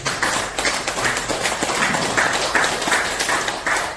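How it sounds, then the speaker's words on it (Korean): Audience applause at a church association workshop, a small group clapping in uneven bursts for several seconds at close range, with a few individual claps standing out. "박수를 부탁드립니다."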